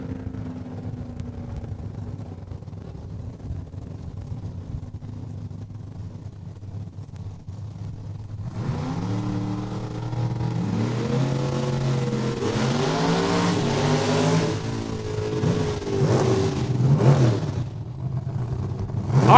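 A drag car launches and accelerates down the strip at Saskatchewan International Raceway in Saskatoon, its engine note rising loud and rough after a quieter idling stretch, with faint background rumble underneath.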